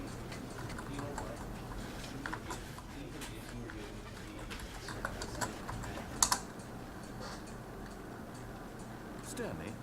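Quiet, sparse keystrokes on a computer keyboard during a Stanley Parable stream, a few scattered clicks and a brief double tap under faint background sound.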